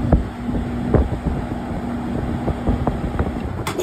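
A Carrier condenser fan motor runs with a low steady hum and a faint tonal whine, with soft irregular knocks and rattles throughout; heard up close, with no voices.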